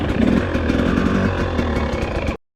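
A 2021 Husqvarna TX300i two-stroke dirt bike engine revs steadily and close, its buzzy note sustained and unbroken for a couple of seconds before cutting off abruptly.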